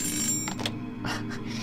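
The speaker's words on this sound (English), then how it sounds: "Everyone's faces tensed up as they watched that terribly noisy phone ringing" Telephone ringing in a visual novel game, a shrill repeating electronic ring in short bursts over a low steady background hum, moderately faint with no talk.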